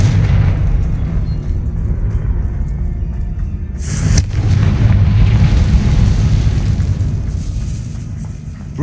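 A Confringo blasting spell goes off in Hogwarts Legacy with a loud, rumbling explosion. A sharp burst lands near the middle, and a heavy low roar carries on throughout.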